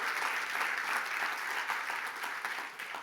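A church congregation claps together in sustained, dense applause for the Lord during a Spanish-language worship service, steady and fairly loud throughout with no voices standing out.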